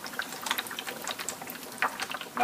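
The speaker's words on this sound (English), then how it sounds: "right now the methane gas is going into the distilled water" Methane gas bubbles into distilled water, a quiet fizzing and gurgling with soft irregular pops throughout, close and faint.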